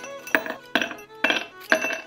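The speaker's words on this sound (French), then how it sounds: "On n'oublie pas les glaçons." Ice cubes drop one at a time into a clear glass, four sharp clinks at an even rhythm, close and bright against quiet.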